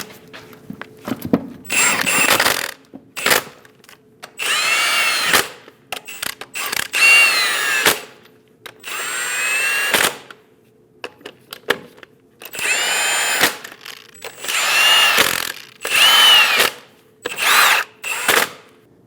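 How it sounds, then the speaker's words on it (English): Lug nuts on a 2001-2006 Chevrolet Silverado 2500 HD front wheel driven down with a power tool, loud close whirring bursts repeated in a series, separated by short silent pauses and ratcheting clicks. "Snug down all the lug nuts."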